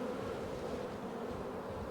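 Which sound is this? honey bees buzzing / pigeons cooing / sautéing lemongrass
honey bees buzzing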